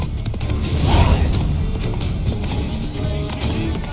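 Horse hooves clip-clop at a quick pace during a ride in The Witcher 3: Blood and Wine, a steady close rumble of galloping with game ambience and some voices around it.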